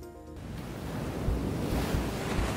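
Ocean waves in a video game, heard as a loud, continuous roar of surf with a rushing wind-like hiss that swells slightly, cutting in after a brief tonal sound at the start.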